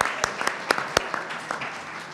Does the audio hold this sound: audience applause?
yes